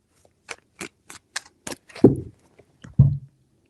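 Tarot cards are shuffled in a series of six quick, crisp riffling bursts, followed by two heavier thuds as the deck is tapped or set down, close and clear with no talking.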